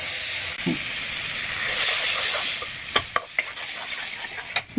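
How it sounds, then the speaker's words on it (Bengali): Steady sizzling of soya chunks frying in butter in a hot pan, with a few sharp clinks of a utensil stirring toward the end. "এবার আমি এই সোয়াবিনগুলো বাটার দিয়ে ভাজবো"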